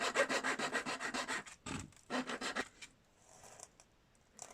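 An old plastic car key case is cut open with slow, rhythmic back-and-forth rasping strokes, close and quiet, followed by a second shorter run of strokes and then near silence.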